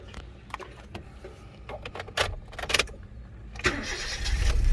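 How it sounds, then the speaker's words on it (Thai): A Honda Jazz GD cranks briefly with a starter whir, catches, and settles into a rising idle close by, with mechanical clicks beforehand; no speech. "สตาร์ทติดใช้งานปกตินะครับ"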